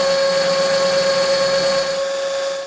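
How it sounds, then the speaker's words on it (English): A Heller B50E drilling machine runs with a steady, loud mechanical whine and a strong constant tone, easing off slightly near the end with no talk. "The Heller B50E allows to work with 50mm drills."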